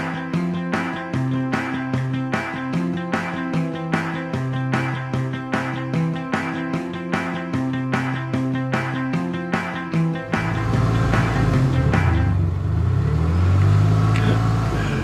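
A car accelerating at full throttle in a fuel-economy challenge, its engine roaring loud and rising in pitch after a stretch of rhythmic music.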